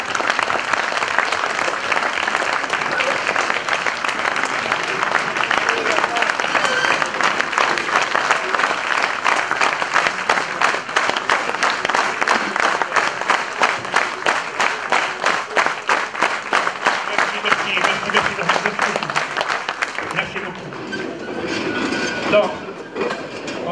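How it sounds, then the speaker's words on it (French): A large crowd claps loudly in steady, rhythmic unison for a long stretch, then the clapping stops and a voice speaks. "Je vous demandais de l'applaudir bien fort."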